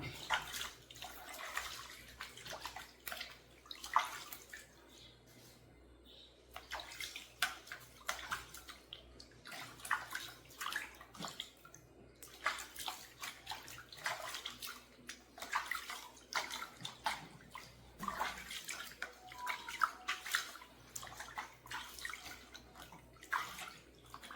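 Water splashing and sloshing in a basin as feet are washed at home, a steady run of soft splashes and drips over about twenty seconds, fairly quiet, with no talk.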